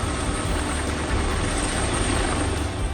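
Army helicopters flying in for a rescue of ministers amid street protests in Nepal, a steady loud rotor and engine roar that fills the whole stretch with no break and no voices.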